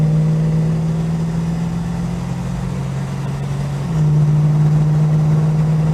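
A Holden HK car engine idles steadily with a low, even hum, running hot, briefly dipping in pitch before settling back to a firm, constant rumble.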